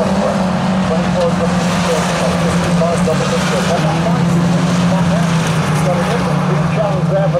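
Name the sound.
1000cc Mini race cars racing on track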